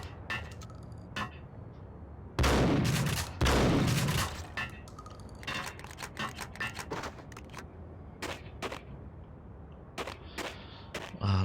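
Gunfire in Max Payne on Xbox: two loud bursts of shooting stand out, followed by a scattered run of sharp single shots and clicks over quiet game ambience.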